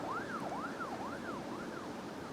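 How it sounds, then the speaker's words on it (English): An ambulance siren wails in a steady rising-and-falling cycle, about five sweeps in quick succession, clear and moderately loud over faint road noise. "the sound of the sirens as the ambulance drove onward to the hospital"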